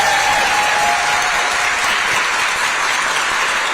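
A crowd at the Albany Tulip Fest street scrubbing applauds a local singer, a loud, continuous wash of dense clapping heard outdoors with no talking over it.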